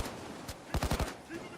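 Gunfire in the video game Payday 2: a quick burst of rapid automatic shots preceded by a single report, loud and close within a short stretch of game audio.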